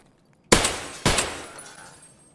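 Two sharp, loud gunshots in Escape from Tarkov, about half a second apart, each with a crisp crack and a long reverberant tail, no voices over them.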